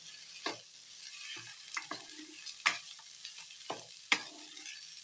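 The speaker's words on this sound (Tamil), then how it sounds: "இப்போ கொஞ்சம் கிளறி கொடுக்கலாம்" Lemon rice being stirred in a pan on the stove, a quiet faint background hiss broken by about eight distinct spatula scrapes and taps against the pan at irregular intervals, no talk.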